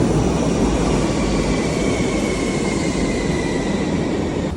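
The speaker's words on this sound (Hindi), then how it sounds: "1 मिनट में आ रही है हमारी ट्रेन" A train rolling into a station, a steady broad rumble of wheels and carriages that stays loud and constant throughout, with no voices.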